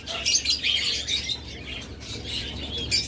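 Lovebirds kept for sale chirp in quick, high twittering bursts, fairly close and continuous over a faint low background hum, with no talking.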